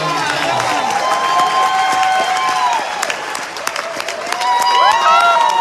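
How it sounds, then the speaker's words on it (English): Audience applause and cheering rise for a young performer at a live music show, loud, dense clapping mixed with whoops and crowd noise, continuing steadily throughout. "Let's give this young man a round of"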